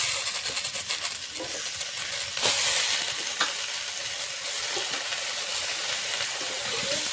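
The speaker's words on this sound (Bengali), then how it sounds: "আলুর সঙ্গে বেগুনের সঙ্গে শাকটা একটু কষে নেব।" Greens being sautéed in a pan with potato and eggplant, a steady loud sizzle and hiss with occasional stirring scrapes, close and continuous.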